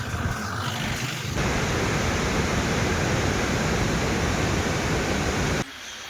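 The Erachilpara waterfall pours in a dense, continuous roar of rushing water that fills the whole moment, loud and steady, briefly softer at the start and end.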